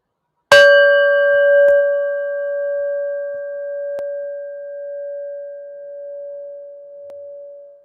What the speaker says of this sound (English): And let's listen to the bell.